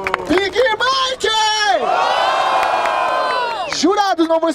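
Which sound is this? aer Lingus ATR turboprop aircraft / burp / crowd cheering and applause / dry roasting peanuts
crowd cheering and applause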